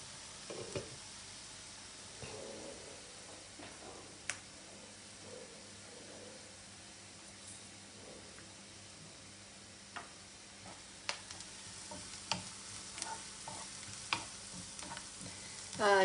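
Onions fry gently in a pan, a quiet sizzle broken by scattered clicks and taps of a utensil stirring, growing busier toward the end with a louder clatter at the close.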